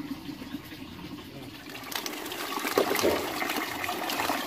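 Water sloshes and gushes as tilapia thrash in a pond, a continuous wet rush that swells louder toward the end, nearby.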